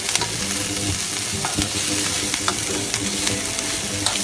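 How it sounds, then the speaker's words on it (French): Red onions and flat-leaf parsley sauté in a pan with a loud, continuous sizzle, broken by sharp clicks and scrapes of a utensil stirring against the pan. "Là je fais revenir les oignons rouges avec du persil plat."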